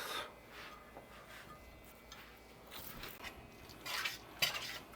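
Taco meat being stirred with beef stock in a pan over medium heat, with scraping and clinking of a utensil against the pan in irregular strokes, close and fairly quiet with a soft wet simmer underneath.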